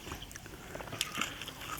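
Someone bites and chews raw mrigal fish salad (koi pla) made with sour red ants, producing close, quiet, moist chewing with a few crisp crunchy bites over about two seconds.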